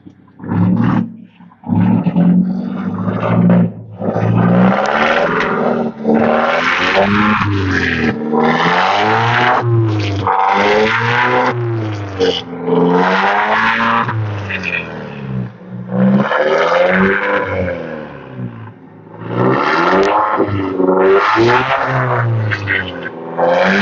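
A small 1750 cc Alfa Romeo 4C sports car engine revs hard again and again, its pitch sweeping up and down in loud, close bursts with barely any pause between them.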